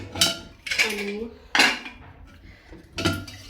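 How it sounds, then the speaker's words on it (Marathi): Metal clatter of a pressure cooker being lifted out in a home kitchen, several sharp clanks and scrapes spaced across a few seconds, close and loud, with a brief spoken word. "कुकर काढूयात"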